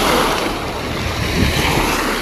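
Waves washing onto a beach in Nice, France, a loud, continuous broadband surf roar with wind buffeting the microphone close up, no voices.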